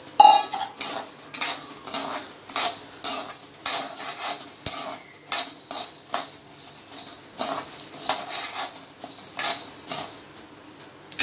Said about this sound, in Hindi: अभी गैस बंद करने का, बंद करके वो गरम में ही ये दालिया को ऐड करने का उसको।